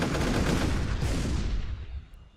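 Gunfire in a tank combat video game, a dense burst of loud, rapid shots with heavy low rumble that rolls on for about two seconds before fading out.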